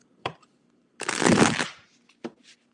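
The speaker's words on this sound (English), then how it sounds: "And let's shuffle." A deck of tarot cards is shuffled in one short riffling burst, with a few quiet taps of the cards before and after. The sound is close, soft and quiet.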